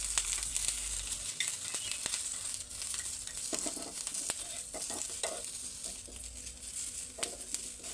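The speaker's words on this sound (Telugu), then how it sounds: "ఆనియన్స్, పచ్చిమిరపకాయలు వేయించుకుందాం." Chopped onions and green chillies frying in a little oil in a pan, a continuous soft sizzle broken by scraping stirs and light clinks of the spoon, close and fairly quiet, with no talk.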